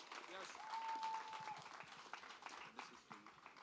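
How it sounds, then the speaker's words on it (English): Audience applause at a high school handover ceremony, a steady wash of clapping from a crowd that holds for several seconds with some voices mixed in. "Give her a round of applause."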